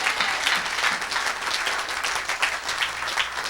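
A church congregation applauds and acclaims God during a sermon, a dense, steady wash of clapping and crowd noise that holds at an even level throughout.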